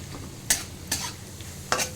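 Onions frying in a pan for Mumbai street-style pav bhaji, with a quiet sizzle underneath and three sharp scraping stirs of a spatula spaced about half a second apart, close and alone without talk.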